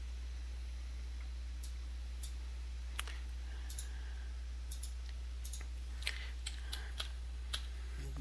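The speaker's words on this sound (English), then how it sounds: "hitting the right arrow and hitting enter a couple times to put some spacing in there" Sparse computer keyboard presses, the right arrow and enter keys tapped a few times, land as light, scattered clicks over a steady low hum, with no talk.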